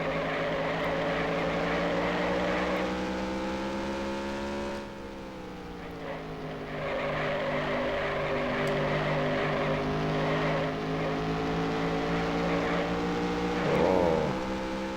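Race car engines in NASCAR Racing 1996 at North Wilkesboro drone steadily, loud and close, their pitch dipping and climbing again through a corner, with no talking.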